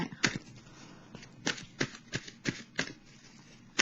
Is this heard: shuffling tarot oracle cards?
yes